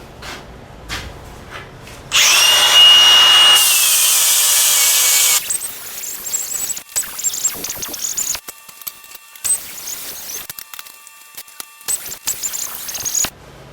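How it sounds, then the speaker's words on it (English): An angle grinder works metal parts for a table: a loud, steady high whine lasting about three seconds, then quieter, uneven grinding and scraping with brief pauses and clanks, and no speech. "Now I can grind that part."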